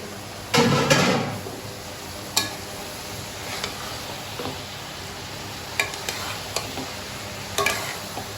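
Okra cooks in a pan for bhindi gosht, a soft continuous frying hiss broken by several sharp scraping stirs and clinks of the spoon against the pan.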